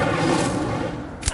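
A fiery spell blast in a wizard video game, a dense broadband roar sustained throughout and ending in a short sharp burst.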